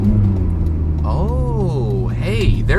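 E46 BMW engine with a throttle-response booster, revving in short throttle blips on downshifts, a steady low engine drone with rising and falling rev sweeps, close and loud under someone talking.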